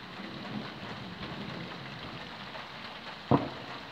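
Steady rain of large drops falling outdoors during a summer thunderstorm in the Drôme, the hail having been broken up by a hail cannon; a continuous patter with one sharper, louder impact near the end.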